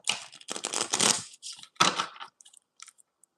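Tarot cards shuffled by hand at close range, a burst of dense riffling and flicking strokes, a pause, then a second shorter burst trailing off into a few faint taps.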